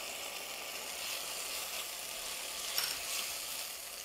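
Three garlic cloves fry in a hot pan with a steady, even sizzling hiss, soft and close, with no voices over it.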